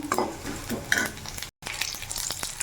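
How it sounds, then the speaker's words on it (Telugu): Onions sizzle and fry with drumstick leaves in a pan, with a spoon stirring and scraping through the mix; steady close crackling, a brief dropout midway, no talk. "ఇలా కొద్దిగా వేగిన తర్వాత ఆనియన్స్ అనేది వేసేస్తుంది"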